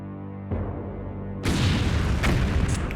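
Heavy booms from an artillery battery firing in Blitzkrieg, a low rumble stepping up into a loud, sustained blast with rolling echoes.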